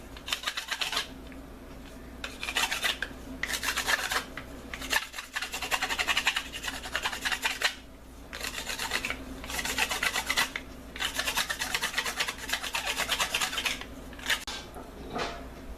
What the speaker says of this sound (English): now we gotta sand down these nodes here